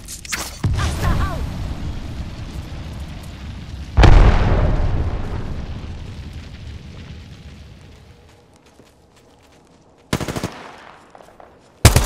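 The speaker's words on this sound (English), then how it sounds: "Thermite grenade out." Thermite grenade thrown in a shooter video game, a heavy burst erupting into a long sizzling, crackling burn that slowly fades, amid earlier and later bursts of gunfire, loud and close.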